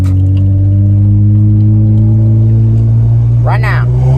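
A 1998–2002 Honda Accord V6 accelerating in a tunnel, its engine a loud, steady droning hum with rising pitch, heard close from inside the car, with a brief sweeping whine near the end.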